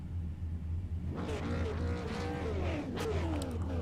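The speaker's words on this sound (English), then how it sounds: "they're revving their engines up" Super late model race cars at North Wilkesboro rev their engines loudly and nearby, a steady low rumble rising into repeated climbing and falling revs that overlap through the whole stretch.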